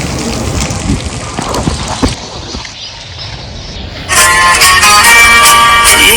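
Steady heavy rain hisses throughout, briefly easing then surging louder and denser near the end, with a rushing, gusty quality.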